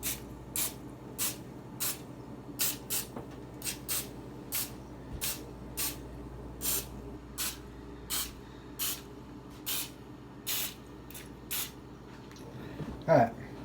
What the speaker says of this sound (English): I heat each one a couple of times with the spray